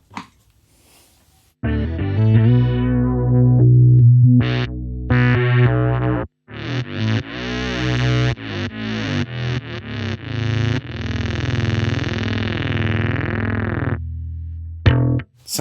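Bass guitar run through an MXR Bass Synth pedal set to stereo, giving fuzzy, synthy notes with sweeping filter movement, played as a steady phrase of sustained and plucked tones, loud and close after a quiet start.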